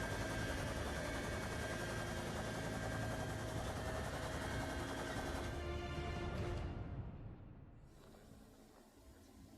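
A German military helicopter takes off at full throttle in snowy alpine mountains, making a dense, rushing rotor and engine roar that holds steady, then fades and thins toward the end.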